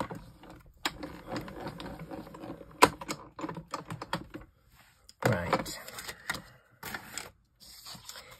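A die-cutting machine cuts a die from a piece of card, giving close, irregular mechanical clicks, clacks and whirring bursts separated by short quiet gaps.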